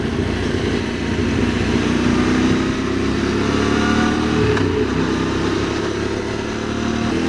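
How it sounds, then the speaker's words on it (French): A motorcycle descends mountain road bends in the Pyrenees near Col d'Aspin and Peyresourde, its engine droning steadily under engine braking with wind rushing past, loud and continuous. "on tombe les rapports et on passe sur le couple de la moto qui va freiner tout ça"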